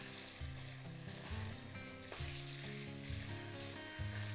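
Vegetables such as eggplant and peppers fry in oil in a skillet, a close, steady sizzle and crackle with stirring clatter throughout, under what sounds like faint background music.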